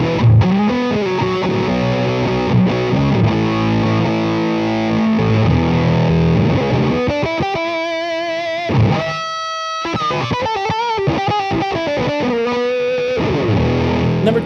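Electric guitar through an octave fuzz pedal plays thick, buzzy distorted riffs and chords with a doubled upper octave, loud and sustained, with a brief pause and choppy stabs midway, no talking.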